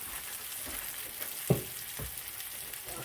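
A pan simmers on a stovetop with a steady soft sizzle and bubbling, broken once by a sharp clink of a utensil near the middle.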